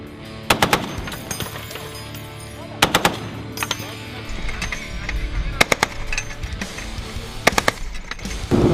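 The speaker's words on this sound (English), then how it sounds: "Once 50 rounds is done with the one shooter, they're going to switch and then shoot 50 rounds again" Gunfire during a military live-fire exercise, with bursts of loud cracks in quick clusters and scattered single shots over a steady rumbling background.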